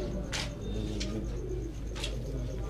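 Angur Katta pigeons in a rooftop loft give soft, repeated low coos over a steady hum of background noise, close by, with a few brighter flutters between calls.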